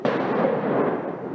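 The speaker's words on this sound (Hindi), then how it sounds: "और बेटा बाहर बम पटाखे छोड़ रहा है।" Firecrackers burst outdoors in a residential colony during Diwali, a loud dense crackling roar that fills the moment and slowly fades, with no talking over it.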